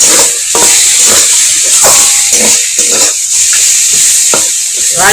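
Ridge gourd frying with a dusting of cumin powder, loud close hiss and crackle running throughout, with repeated scraping stirs of a spatula against the pan breaking through the sizzle.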